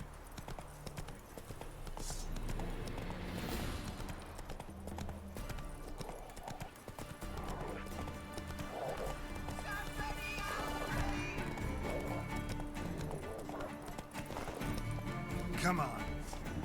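Hooves of Roach, Geralt's horse in The Witcher video game, beat a steady galloping clip-clop throughout, with a voice speaking over them.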